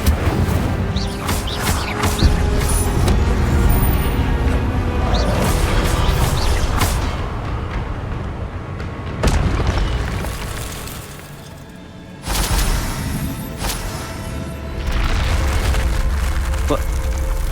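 An Incendio fire spell is cast repeatedly in a Hogwarts video game, producing loud whooshing, crackling blasts and booming bursts that come in waves, with brief quieter gaps between casts.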